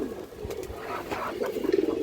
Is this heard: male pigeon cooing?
yes